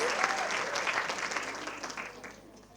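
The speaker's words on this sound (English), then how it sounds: "I think she deserves another round of applause." Audience at a women in media and communications panel discussion gives a round of applause for a panel speaker, steady clapping that fades gradually toward the end.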